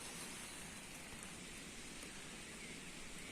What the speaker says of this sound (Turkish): Hava yağıyor